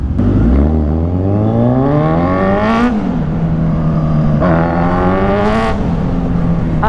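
A BYD sports car revs and rushes past in loud, close sweeps, its pitch climbing and dropping in two long passes with a steady whirring hum underneath.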